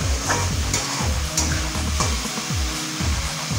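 Spice masala being sautéed in oil in a pan for a Bengali rohu fish curry with lentil dumplings and potatoes, a steady close sizzle under repeated rhythmic scraping and stirring strokes, with no voices.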